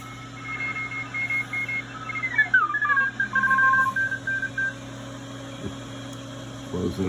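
Morse code tones in the CW band tuned on a Hammarlund SP-600-JX shortwave receiver: keyed beeping signals that shift in pitch as the dial moves, over steady hum and faint static.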